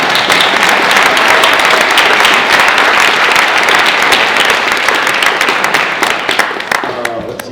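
An audience at an Irish heritage festival tribute to Senator Patrick Leahy applauds donors with dense, sustained clapping that fills the hall, tapering slightly near the end.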